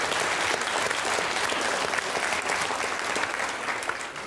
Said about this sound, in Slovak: Potlesk pre vás.